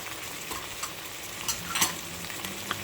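Ginger and sliced tomatoes sautéing for pakbet, a steady close sizzle of frying with scraping stirring strokes from a spoon in the pan, no talking.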